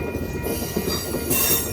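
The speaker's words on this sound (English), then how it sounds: "look at that train going to Los Angeles on the coast subdivision" Amtrak Coast Starlight passenger train rolling past on the Coast Subdivision in Oakland, a steady, loud rumble of wheels and cars with a hiss of rail noise brightening near the end.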